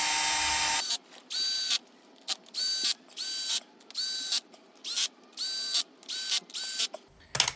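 Power tool with a clutch setting runs in the outer clutch cover bolts on a Suzuki V-Strom 650, giving about nine short whirring bursts with brief pauses between them, close and fairly loud, with no talk.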